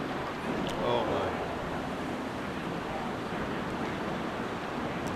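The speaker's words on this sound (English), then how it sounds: "And that was a gust." A gust of wind sweeps across the Shinnecock Hills golf course during the 2018 U.S. Open, producing a steady, loud broadband rush that swells slightly near the start and holds throughout, with no clear talk over it.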